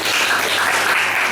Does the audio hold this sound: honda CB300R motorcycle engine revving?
no